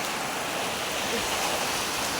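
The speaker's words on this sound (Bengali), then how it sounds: "তখন ছিল তুফান আর এখন হচ্ছে পুরো একদম বৃষ্টি নেমে গেছে।" Heavy rain pours down after a storm, a dense, constant roar of falling water that fills the whole moment without a break.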